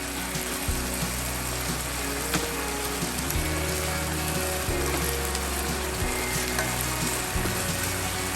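Loud, steady sizzling and crackling of fajitas frying in a hot pan, close and continuous, with occasional scraping from stirring and no talking.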